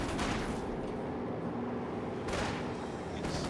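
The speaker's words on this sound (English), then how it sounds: "Kurtz is hopping a light artillery barrage" A light artillery barrage from a WWII strategy battle with tanks such as the T-70 and Panzer rumbles continuously as dense, overlapping distant blasts, with a sharper crack late on.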